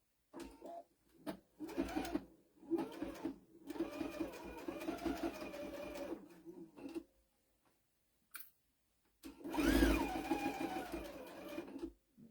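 Sewing machine stitching a denim cathedral quilt, running in several close, rapid mechanical bursts separated by short pauses, ending with a longer run after a brief gap.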